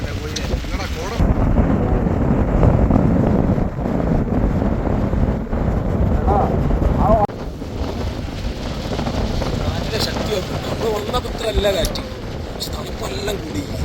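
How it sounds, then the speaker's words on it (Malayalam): Strong, cold wind on Meghamalai amid thick mist buffets the microphone in a steady, roaring rush, with people talking underneath. "തണുപ്പ് കൂടി കാറ്റ്"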